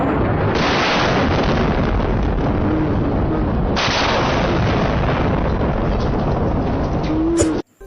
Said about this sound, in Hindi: ये है न्यूक्लियर साउंड।